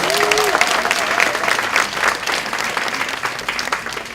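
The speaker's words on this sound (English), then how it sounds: "Give her a round of applause" An audience applauds an honoree at a community event, dense steady clapping from a crowd filling the room, with a voice briefly heard at the start.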